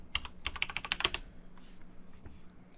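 A password is entered on a computer keyboard as a quick run of about a dozen crisp, close keystrokes, followed by a few faint scattered taps.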